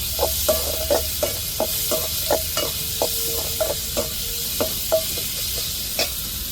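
Onions and tomatoes with curry leaves sauté in a hot pan with a steady sizzle, broken by regular scraping strokes of a spatula stirring them through, close and clear.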